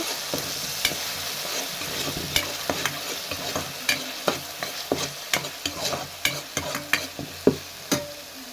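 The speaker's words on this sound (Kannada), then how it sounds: "ಈರುಳ್ಳಿ ಖಾರ ಇತ್ತಲ್ಲ ಅದನ್ನೇ ಹಾಕ್ಕೊಂಡು ಹಸಿ ಸ್ಮೆಲ್ ಹೋಗೋವರೆಗೂ ಚೆನ್ನಾಗಿ ಫ್ರೈ ಮಾಡ್ಕೊಬೇಕು" Onion chili paste with curry leaves and garlic frying in oil in a pan, a steady sizzle under repeated sharp scrapes and taps of a spoon stirring, close and clear with no talk.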